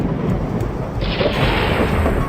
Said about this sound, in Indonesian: Hujan deras dengan petir menyambar-nyambar